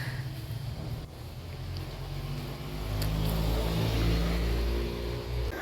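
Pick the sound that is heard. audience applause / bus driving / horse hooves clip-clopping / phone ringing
bus driving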